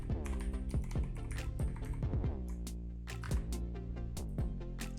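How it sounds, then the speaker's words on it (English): Keys clatter steadily on a computer keyboard as an email address is typed, a close, even run of sharp clicks at a quick, slightly uneven rhythm over a faint tonal background, with no voices. "Enter your email."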